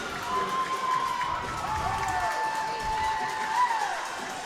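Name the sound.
crowd cheering after a goal at an ice hockey game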